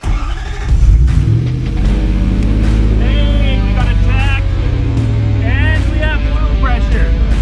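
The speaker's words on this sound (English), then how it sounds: "The truck was dead cold and it's still cold in here, so a little bit of a cold start, which is why it struggled." A cold Toyota 1UZ V8 engine swapped into a truck cranks, struggles, then catches into a loud, close, rough idle that runs steadily while a person talks over it.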